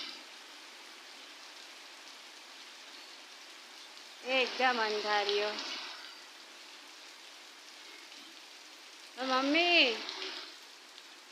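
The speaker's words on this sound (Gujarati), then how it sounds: "ભાઈ મસ્ત વરસાદ ચાલુ થઈ ગયો છે." Heavy rain pours down outdoors as a steady, even hiss across the whole stretch, with two short bursts of nearby talk rising above it.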